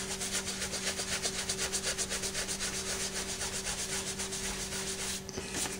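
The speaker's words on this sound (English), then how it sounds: "Just use a soft buffing cloth" A soft buffing cloth is rubbed back and forth over a dyed leather knife sheath in quick, steady rhythmic strokes, close and fairly quiet, stopping briefly near the end.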